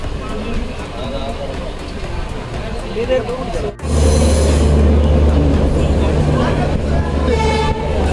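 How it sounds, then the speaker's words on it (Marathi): Train rumble and rail noise with a voice talking over it, then the sound suddenly swells louder and heavier as the carriage departs Mumbai toward Gokarna. "तो आमची ट्रेन सुटली"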